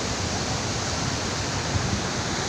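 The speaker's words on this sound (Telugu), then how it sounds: "ఎక్సలెంట్ వాటర్ ఫాల్స్ అని చెప్పుకోవచ్చు" Bogata waterfall roars in a steady, dense rush of falling water, loud and continuous with no voices.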